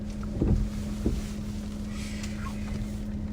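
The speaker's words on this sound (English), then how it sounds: "I can hear the oil pump doing its thing too." An oil pump runs with a steady low hum beneath rustling wind noise and a couple of soft knocks near the start, close and fairly quiet.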